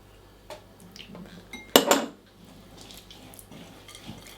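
A spoon scrapes and clinks against a bowl while maca energy bar ingredients are mixed with almond butter and syrup. There is one sharp loud clatter, then softer scraping and tapping close by.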